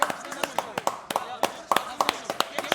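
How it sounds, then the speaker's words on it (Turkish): A group of people claps during a Turkey vs Colombia match, producing quick, sharp, close claps in a loose, uneven rhythm that carries on steadily. "Bir alkış alalım"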